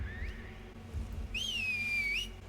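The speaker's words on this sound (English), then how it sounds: "I can't whistle like that though." Loud, clear human whistling in a woodland scene from an episode of The Last of Us TV series: a short rising whistled note, then a longer wavering sustained tone over a low steady background rumble.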